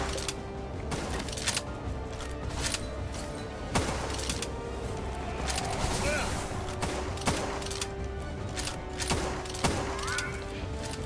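Rapid gunfire bursts in the video game Palworld, repeated shots and fusillades over about eleven seconds, steady and fairly loud, with a player occasionally talking over the action.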